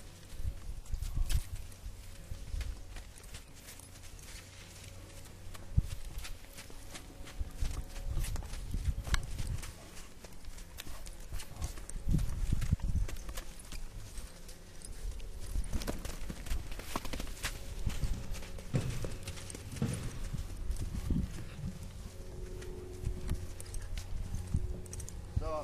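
A horse being started under saddle, wearing a back girth, walks forward with a steady clip-clop of hooves that continues throughout, close and moderately loud over a low outdoor rumble.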